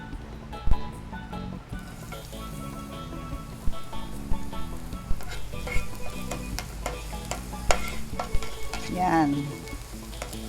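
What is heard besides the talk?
garlic and onion sautéing in oil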